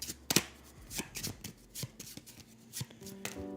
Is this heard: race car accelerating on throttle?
no